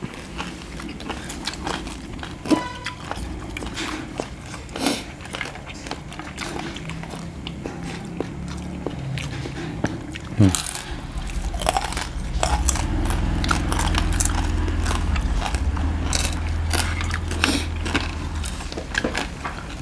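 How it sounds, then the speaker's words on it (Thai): Crispy deep-fried pork leg being bitten and chewed close to the microphone, with repeated loud crunches and squelchy mastication running steadily throughout. "กรอบนอกหนึบใน ราะว่า ขาหมูกรอบมันจะมีเอ็นมันจะไม่เยอะนะครับผม"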